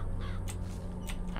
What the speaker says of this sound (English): Summons murdering crows to stun and damage your enemies